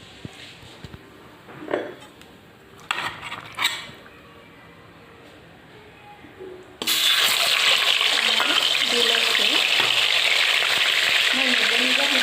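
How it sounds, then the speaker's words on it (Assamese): Chicken pieces drop into hot, smoking refined oil, and a loud, steady broadband sizzle follows. Before that, a few faint clinks and light sounds are heard over a quiet background. "এতিয়া মই ইয়াত চিকেন কেইপিচমান দি ফ্ৰাই কৰি ল'ম।"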